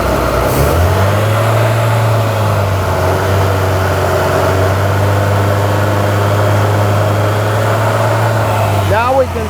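A 1997 Nissan pickup engine, running lean, is held at raised throttle, giving a loud steady droning hum that holds constant, then drops abruptly near the end.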